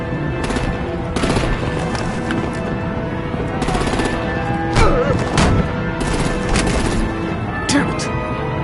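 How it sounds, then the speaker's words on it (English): Video game combat with sustained machine-gun fire and gunshots, broken by sharp bursts and heavier impacts, loud and continuous throughout. "Break out the artillery and disable their vehicles!"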